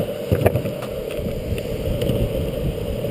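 Steady low wind gusts buffet the microphone on a trekking trail in Portugal, a continuous rumbling roar with no voices.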